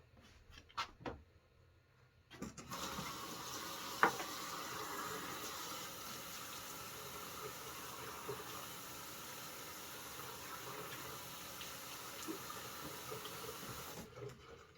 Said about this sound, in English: I'm just going to scrub my face with this and then rinse it all off